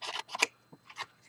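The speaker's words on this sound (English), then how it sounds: "I'm going to go ahead and cut out another square and place that right over the top." Scissors snip through leftover paper to cut out a small square for a tiny tapered top hat craft, a few quick close snips in short bursts.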